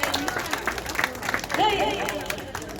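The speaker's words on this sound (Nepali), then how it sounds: "ताली बजाउनु साथी हो हाम्रो गुरुआमालाई" Students clap for a teacher at a school gathering; scattered applause rises under a voice speaking over the crowd, with a short burst near the middle.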